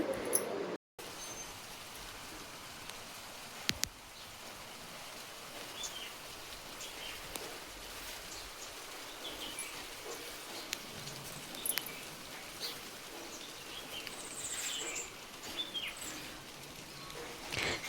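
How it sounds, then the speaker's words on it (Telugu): Rain falls around a house surrounded by trees as a steady, soft, distant hiss that continues throughout, with a few faint bird chirps rising above it and no talking. "చూడండి, ఫుల్ వర్షము."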